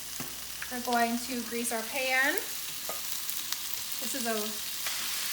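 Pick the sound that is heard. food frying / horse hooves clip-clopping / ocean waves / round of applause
food frying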